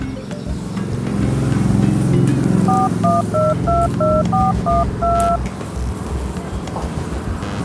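A phone being dialed, a rapid series of about ten touch-tone beeps in a steady rhythm, heard clearly over a continuous low background rumble, with no speech.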